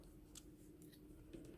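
Scissors snip a piece from a needle-felted flower, giving a few faint, close cuts and a louder final snip at the end of a quiet moment.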